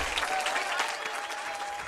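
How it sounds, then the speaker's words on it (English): Crowd applause at a football game ceremony honoring wall of achievement inductees, steady sustained clapping from a large audience filling the whole moment, heard alone. "One more quick round of applause for our"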